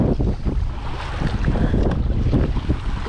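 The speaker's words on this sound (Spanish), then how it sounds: "Está bastante ventoso" Strong wind roars and buffets the microphone while kayaking across the bay of Cataño, Puerto Rico, with waves sloshing against the hull beneath the constant loud gusting, no voices.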